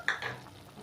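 A utensil stirs sweet and sour sauce, made with sugar, salt, chili sauce and vinegar for red snapper, in a pan. A couple of short scraping strokes sound over a faint simmer, with no talking.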